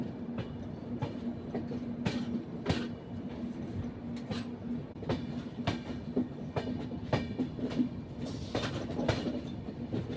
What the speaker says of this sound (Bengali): আর আমাদের ট্রেনটা।